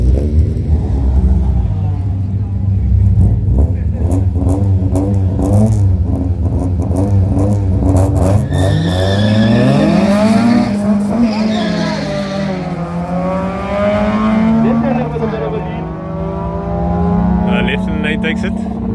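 Several race cars, including Mk1 Golfs, a Honda B18 VTEC and a 2ZZ-engined Conquest, roar through a drag run at Killarney, engines revving hard with rising pitch through gear changes, with a commentator talking over them throughout.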